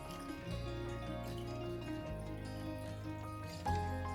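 Water runs steadily into a large canner pot in a home kitchen, a soft continuous pour heard close and quiet beneath a steady appliance hum.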